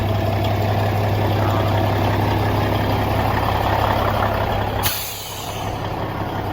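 A 1994 Freightliner FLB cabover truck with a Cummins Celect N14 diesel idles loudly with a steady air hiss as its air brake system fills, then a sharp burst of released air cuts in and the engine drone continues.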